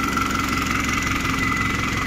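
Modified Fiat tractor with a turbocharged four-cylinder engine and rotor pump, rated around 200 horsepower, idling in Punjab with a loud, steady, close throb and faint knocking.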